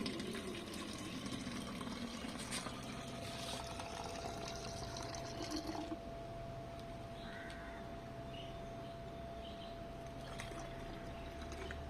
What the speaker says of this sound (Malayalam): ആവശ്യത്തിനുള്ള വെള്ളം ഒഴിക്കുവാണ് ഇതിന്റെ അകത്തോട്ട്.